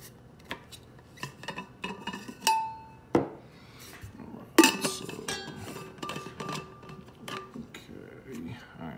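Sharp plastic clicks and clinks as the 360 cup lid is fitted onto a Yeti thermos-style Rambler cup, a string of small knocks and rubs close by with a person talking between them.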